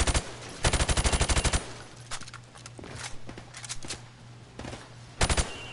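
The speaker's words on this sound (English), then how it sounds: "I want you to shoot the targets through the wood." Video game gunfire at a shooting range, firing at targets through plywood: loud rapid automatic bursts, a short volley, scattered single shots, then another tight burst near the end, over a low steady hum.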